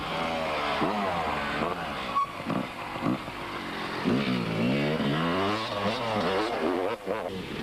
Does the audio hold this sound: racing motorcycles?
yes